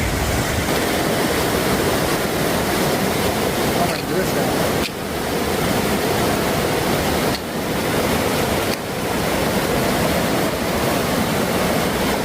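A creek on the Pacific Crest Trail flows loudly and continuously, a dense close roar like a fast stream, with a person speaking briefly over it.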